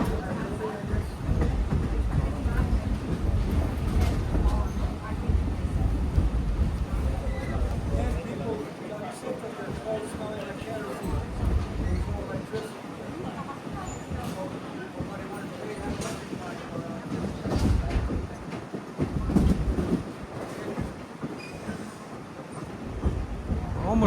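The Lehigh Gorge scenic railway train rolls along, heard from an open air car as a continuous rumble of wheels on rails with rhythmic clicks and occasional squeals, while people talk over it.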